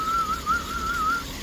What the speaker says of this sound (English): It has a little whistle or whine or like a